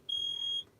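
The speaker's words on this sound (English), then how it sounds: "what is going off right now is the alarm for the fan for the inverter" Inverter fan alarm gives a single clear, high-pitched electronic beep lasting about half a second, loud against quiet background hum.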